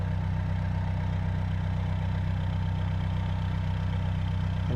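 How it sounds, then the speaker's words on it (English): Narrowboat diesel engine idling at a mooring, a steady low throbbing drone held evenly from start to finish, close and loud with no speech over it. "In time to turn the engine off."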